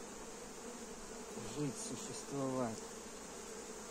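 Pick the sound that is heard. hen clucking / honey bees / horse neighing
honey bees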